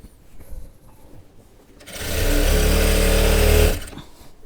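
A sewing machine stitches a kali-style sharara seam in one loud, close, continuous run of under two seconds, preceded by faint handling sounds and ending abruptly.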